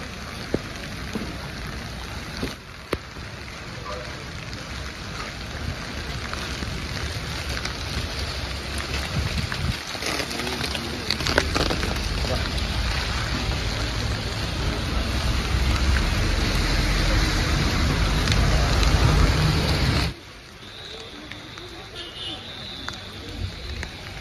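Steady rain patters over a crowd of pilgrims walking the circuit around Arunachala hill on a new-moon day, with voices in the crowd and wind buffeting the microphone until the rain noise drops off abruptly.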